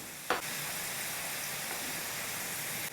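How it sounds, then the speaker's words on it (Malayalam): Bitter gourd slices frying in hot oil for an Onam sadhya pachadi, a steady broadband sizzle that holds at an even level throughout, with a brief louder crackle near the start and no talking. "നമ്മുടെ പാവക്ക ഗോൾഡൻ കളറായിട്ട് ഇങ്ങനെ ഫ്രൈ ആയി വന്നിട്ടുണ്ട്"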